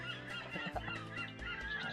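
Pair of ducks calling outdoors, a few quiet honking, nasal calls overlapping in a brief exchange against a faint background.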